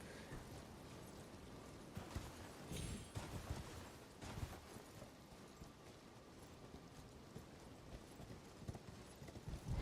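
Hooves clatter in quick, uneven clip-clops on hard ground for the whole stretch, with a few heavier thuds and a faint background hum, from a galloping horse in the video game Elden Ring.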